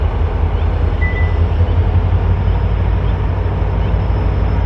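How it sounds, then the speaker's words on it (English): A BNSF freight train pulls a cut of cars into a rail yard at a crossing, giving a constant low rumble and drone that stays loud and steady throughout, with no voices. "It's a BNSF pulling a cut of cars going into the rail yard at the crossing"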